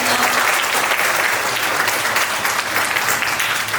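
A large audience applauding at a science anniversary show in Korea, a dense, steady burst of loud clapping throughout.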